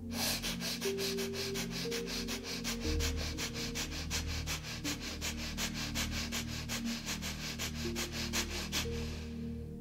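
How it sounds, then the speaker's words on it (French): Rapid, rhythmic forceful exhalations through the nose during breath of fire yoga breathing, dozens of short sharp puffs in quick, even succession, close and steady, then stopping. "on va faire une respiration du feu pendant quelques instants"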